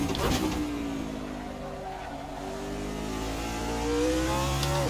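Race car engines in Assetto Corsa roar steadily at high revs in a multiclass GT3 and prototype race at Fuji, a continuous loud drone with shifting pitch as the pack of cars closes in.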